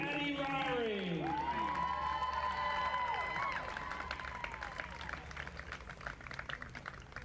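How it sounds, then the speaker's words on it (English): A high school crowd at a girls' varsity field hockey game applauds senior athletes, a steady wash of clapping and cheering under an amplified announcer's voice that fades slightly toward the end. "one big round of applause for our 32 and counting senior wins and all of our senior student athletes and their families"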